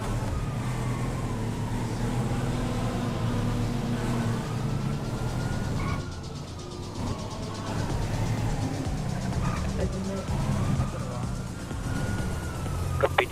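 A police car siren in a GTA roleplay video game wails in long rising and falling sweeps over a steady low engine rumble, holding loud and continuous throughout.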